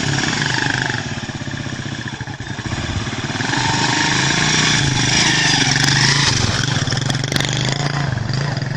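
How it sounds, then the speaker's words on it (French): Motorcycle taxis sit lined up with engines running, a dense close rumble of many idling and revving bikes that continues throughout, with occasional throttle rises over the crowd of motors. "Ces motards, alignés ici comme des compétiteurs sur la ligne de départ d'une course de moto, sont en réalité des mototaximènes"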